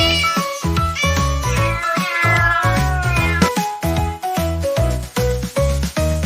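Repeated meows, sung or voiced in imitation of a cat, ride over a bouncy children's tune with steady rhythmic backing.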